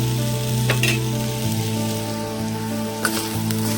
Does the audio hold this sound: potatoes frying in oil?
yes